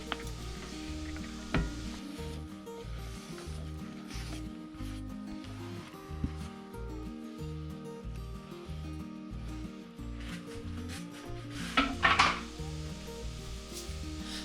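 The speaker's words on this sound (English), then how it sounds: "Once the oil is melted, I add in all the veggies and herbs." Veggies and herbs fry in melted coconut oil in a skillet, a close, steady sizzle with scraping and stirring and a few louder clatters, no voices.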